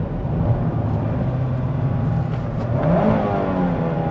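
A 2025 Mazda MX-5 Miata Grand Touring engine hums steadily at cruising speed from inside the car, a continuous mid-pitched drone with a slight rise in pitch partway through.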